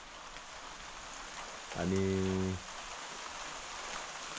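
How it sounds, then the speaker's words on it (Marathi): Morning rain falls steadily as a soft, even hiss, with one short spoken word briefly heard over it. "सकाळ सकाळ पाऊस चालू झाला"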